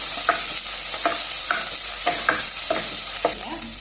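Onion being sautéed with ginger garlic paste for a chickpea curry, a steady sizzle with regular scrapes and stirs of the spoon against the pan, close and clear, no talking.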